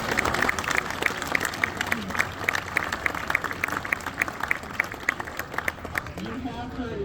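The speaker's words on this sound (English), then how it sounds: "Please give them all a round of applause." An audience claps for honored firefighters and a paramedic at a ceremony for an assistant fire chief, steady dense applause filling the room, with a few voices mixed in toward the end.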